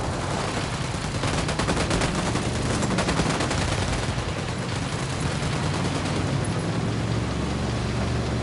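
Continuous loud automatic gunfire in the video game Ghost Recon Wildlands, a dense, unbroken rattle of shots throughout with rumbling low end beneath.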